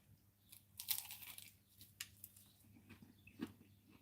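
A crunchy pie is eaten, giving soft, close crunching bites and chewing in a few irregular bursts, faint against a quiet background.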